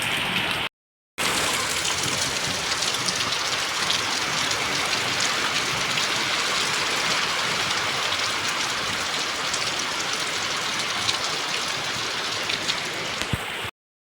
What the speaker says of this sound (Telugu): చాలా జోరుగా అయితే పడుతుంది, వాన కూడా ఉంది, అలాగే గాలి కూడా ఎక్కువ అయితే ఉందబ్బా